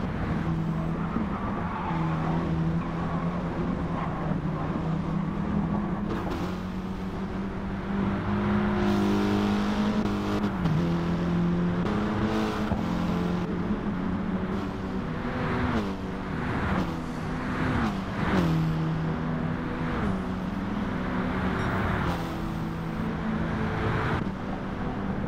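Mitsubishi Lancer Evo race cars in Gran Turismo 7 roar steadily through a one-hour endurance race, engines droning and shifting pitch as cars rev, brake and accelerate, with occasional tyre squeal, loud throughout with no talk.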